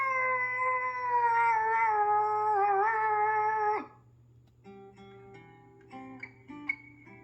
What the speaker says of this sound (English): all the coyotes would go up on the ridge and howl